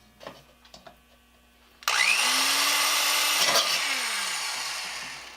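A power drill bores a hole in the side of a tin can meant as a water drip can for a treadle grinder, starting after a few clicks with a loud, steady high whine that tapers off.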